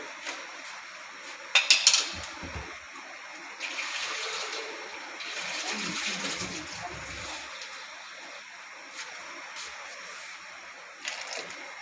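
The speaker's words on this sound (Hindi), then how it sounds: "जग में थोड़ा सा पानी शामिल कर लेंगे" Water splashes and gushes into a pan for tamarind and dried plum sharbat in a few uneven pours, moderately close, with quieter trickling between them.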